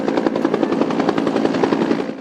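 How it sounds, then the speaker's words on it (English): A Bolkow BO-105 helicopter of the Philippine Army, rotor chopping in a fast even pulse over a steady turbine whine, close and loud throughout with no voices. "The Philippine Army welcomed the new Bolco BO-105 helicopter"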